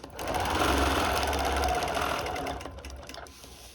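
A sewing machine stitching a quilt whirs loudly and steadily at close range for about two and a half seconds, then slows and fades to a stop.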